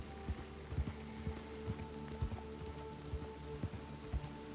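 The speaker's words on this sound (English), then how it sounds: "I hate this rain." Rain patters steadily in a RedM Western roleplay video game, a soft continuous wash with irregular heavier drops and a low droning hum beneath, no voices over it.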